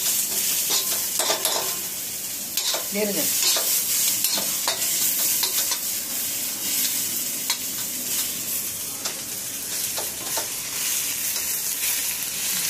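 Bay leaf and whole spices frying in hot oil for a fish curry, a continuous close crackling sizzle with scattered pops and a brief stirring scrape.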